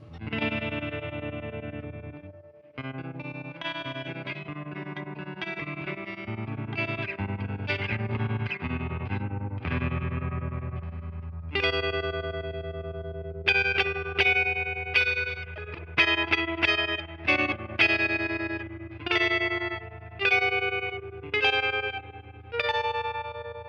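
A guitar through a Fender Tonemaster Deluxe Reverb amp with its effect turned to full speed and full intensity plays chords and picked notes that throb and shimmer with a fast, deep wobble, ending in loud, repeated plucked stabs.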